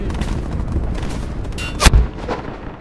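Gunfire from the video game Day of Infamy, a steady rattle of shots and booms running throughout, with one sharp, loud blast standing out near the end.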